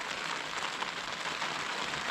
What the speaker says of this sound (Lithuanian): Aš tikiuosi, kad nustos lyti.